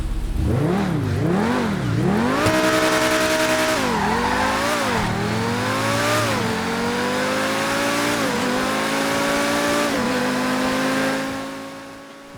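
Progen T20 supercar in GTA 5, its engine revving up and down through repeated gear changes with rising and falling pitch and some tire squeal, loud and continuous before fading near the end.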